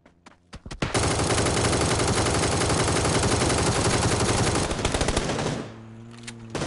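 Sustained automatic gunfire from the battle royale game PUBG, a loud, dense burst of rapid shots that starts after about a second, runs for several seconds without pause, then cuts off, with a few lone shots around it.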